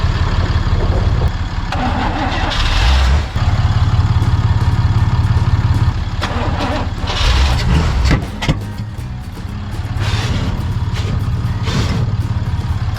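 An engine fitted with homemade fuel injection runs loud and close with a rough, uneven rumble that surges and dips and stumbles briefly in places, without talk.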